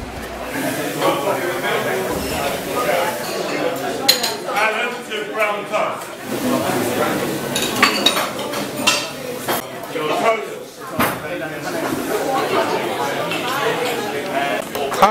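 Dishes and cutlery clink and clatter in a busy London greasy spoon cafe, with sharp scattered chinks of plates and silverware over continuous background chatter from diners nearby.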